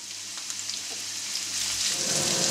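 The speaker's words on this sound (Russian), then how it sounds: "и обжариваем баклажаны до золотистого цвета" Oil sizzles and crackles steadily in a pan as eggplant fries, the hiss growing a little louder toward the end.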